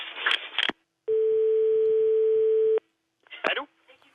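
A phone line gives a steady, continuous dial tone lasting under two seconds, loud and close, with people talking just before and after it.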